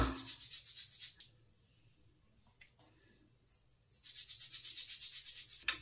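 Fingers rub a baking soda mixture into the scalp in fast, close scratchy strokes, a rhythmic burst at the start, a quiet pause, then another steady run of brisk rubbing.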